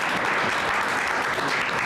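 Steady, dense applause from an audience at a 2018 gubernatorial candidate forum, clapping for a candidate; continuous and fairly loud throughout with no break.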